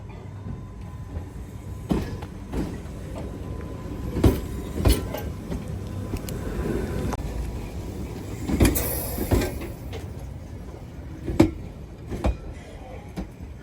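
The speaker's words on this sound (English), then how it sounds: "Yeah, this is my train." A London Underground Piccadilly line train runs past with a steady rumble and repeated sharp clacks and bangs from the wheels and cars, fairly loud and close, with no voices over it.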